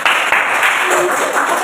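Short burst of classroom applause for a student group, a dense patter of clapping hands that runs the full moment, with a voice speaking briefly over it.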